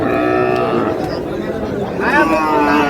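Cattle moo loudly amid a busy, chattering crowd at the Ambari livestock market, with overlapping voices and animal calls close by.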